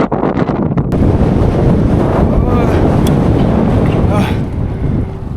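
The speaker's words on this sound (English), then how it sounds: "Whenever there's a massive wind gust, I hold on to the bridge and wait until it gets better." Strong sustained wind gust buffets the microphone on a bridge in remote China during a cycling trip, a loud continuous roar with faint voices briefly audible beneath it.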